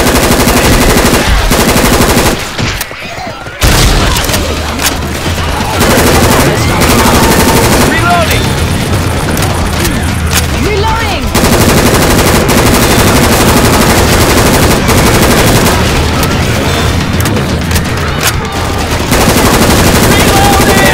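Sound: HK416 rifle gunfire from video game Left 4 Dead 2

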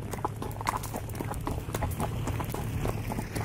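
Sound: horse hooves clip-clopping

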